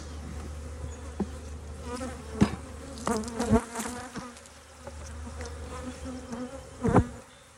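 Many honeybees buzzing steadily close by around an open hive in spring, a dense droning hum with individual insects swelling louder as they fly past, plus occasional soft knocks and scrapes.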